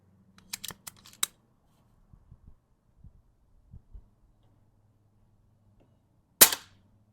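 An AGT Vixen air rifle fires shots over a chronograph, heard as a quick cluster of sharp cracks, then a few soft handling knocks, and one more loud crack near the end against a low steady hum.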